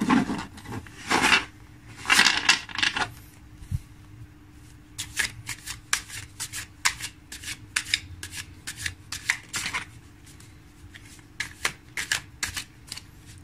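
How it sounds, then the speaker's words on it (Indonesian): A deck of tarot cards being shuffled by hand, close and crisp, with dense riffling bursts early on, then a steady run of quick separate card snaps and slides continuing throughout, no voices. "saya shuffle dulu kartunya"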